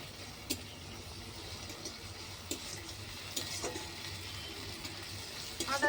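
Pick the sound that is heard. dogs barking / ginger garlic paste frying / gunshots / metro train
ginger garlic paste frying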